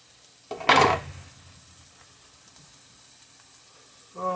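Pork patties frying in a pan give a brief loud sizzling burst near the start, then settle into a faint, steady low sizzle before another short rise at the end.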